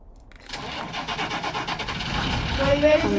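A Ford car's engine cranks and catches after a brief quiet moment, then its roar swells steadily louder and closer, with indistinct voices in the background.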